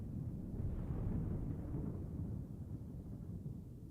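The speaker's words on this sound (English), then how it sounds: "Blimey, the thunders really sounds dangerous." Deep, rolling thunder in Microsoft Flight Simulator 2020 while an FSLabs A321 sits on the ground in Ecuador. It is a sustained low rumble that swells early, then eases slightly and keeps going without pause.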